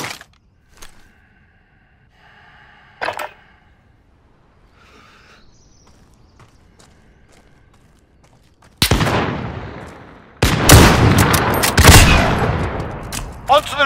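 Gunfire in Call of Duty: Modern Warfare, a quiet stretch with faint clicks and a brief voice giving way to loud sustained volleys of shots that rattle on through the final seconds.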